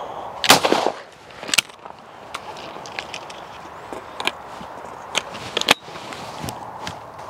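Guns being fired at a shooting session, a few sharp reports near the start and middle with smaller cracks and clicks scattered through the rest over a steady outdoor background.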